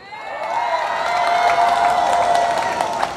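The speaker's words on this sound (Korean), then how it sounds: "박수 칠려면 세게 치세요" A crowd at a political rally in Korea claps and cheers continuously, with a sustained tonal hum and shouts running through the loud, dense applause.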